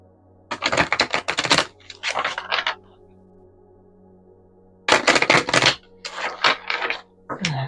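An oracle card deck from the Dreamsong set is shuffled up close in two quick bursts of crisp riffling, clicking card noise, with a quiet pause between them and a short flick at the end.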